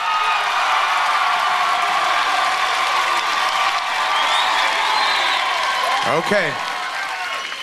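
Loud, sustained applause and cheering from a television studio audience during a rock singer elimination show, a continuous crowd roar with a brief spoken word near the end.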